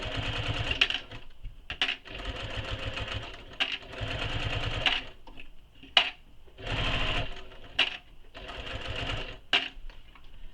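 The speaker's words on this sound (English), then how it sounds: "I'm stitching with my base against the bed of my machine" A sewing machine stitches fabric in repeated bursts of whirring, each run a second or so long, separated by short pauses and soft clicks, close and clear with no talking.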